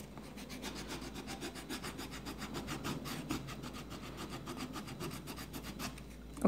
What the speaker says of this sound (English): sand it, placing the straight part of the wooden stick in this way,